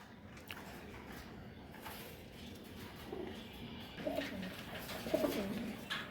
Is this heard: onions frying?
no